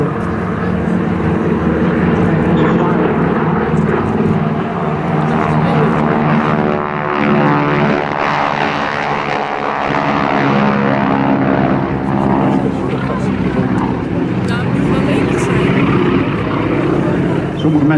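Breitling Wingwalkers propeller biplanes perform at the Volkel air show in 2013, their piston engines producing a loud, continuous droning roar with a throbbing tone that swells and dips slightly as the aircraft pass.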